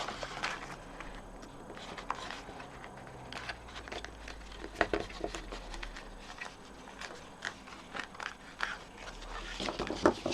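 A handmade paper flip-top box is folded and closed, with crisp crinkles, creases and small taps of card stock coming in close, irregular bursts throughout, and no one talking.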